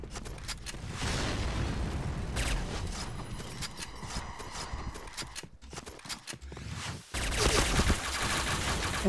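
An AS Val rifle fires rapid automatic bursts in the video game Point Blank, with dense, loud, continuous crackling shots, a brief pause, then another sustained burst.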